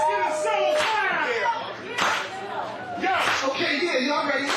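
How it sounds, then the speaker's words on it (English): A crowd claps together in a soul clap at a hip hop show, dense loud hand slaps in uneven bursts with shouting voices over them. "Let's get a soul clap!"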